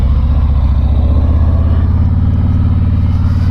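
A 2019 Harley-Davidson Road Glide motorcycle rumbles loud and close under way, its deep engine note steady and throbbing throughout with no voices.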